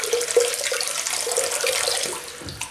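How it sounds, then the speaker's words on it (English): Hot water runs from a tap to rinse and warm a safety razor before shaving, a steady close splashing stream lasting the whole moment, alone without voices. "Hot rinse before we start to warm the razor."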